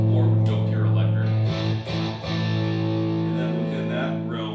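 A TogaMan guitar viol played with a pure electric tone, sustained bowed-sounding notes with strong steady harmonics ringing out alone at close range, with a brief dip midway before the tone resumes.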